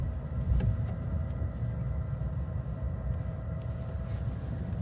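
A Ford Maverick hybrid pickup creeps up an incline on battery power alone, leaving only a low steady road rumble and faint cabin hum with no engine note, heard from inside the cab.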